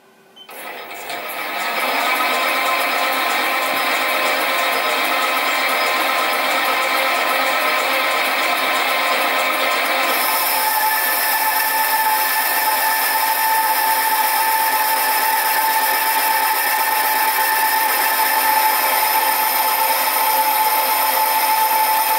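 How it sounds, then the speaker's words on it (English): Metal lathe turning a one-inch aluminium bar with a freshly tipped cutter on fine feed, giving a steady whirring, tonal machining hum that holds evenly throughout, with a slight change in pitch partway through. "I've just put a new tip on this cutter, and I'll cut at 5 thou"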